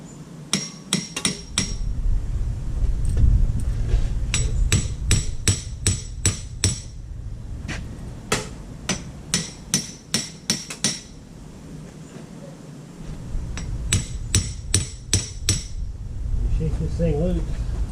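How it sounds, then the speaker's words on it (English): Sharp metallic hammer strikes against a Dana 60 axle hub during a tear down, delivered in quick bursts of several rapid blows separated by short pauses, loud and close over a low background rumble. "Use the wrong hammer."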